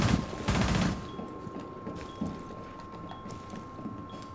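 An AK-12 fires a loud burst of automatic rounds in a Rainbow Six Siege match, followed by faint footsteps and small clicks.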